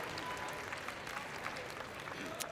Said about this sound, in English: can hear there's lots of support right now for the Canadian team.